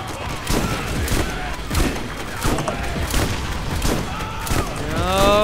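Repeated gunshots from the Borderlands video game crack through a dense, busy game soundscape, coming in steady bursts over low rumbling effects, with some speech-like sounds mixed in.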